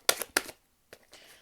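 Tarot cards being shuffled by hand, two quick crisp riffling bursts close up, then softer brief slaps and rustles, alone without talk.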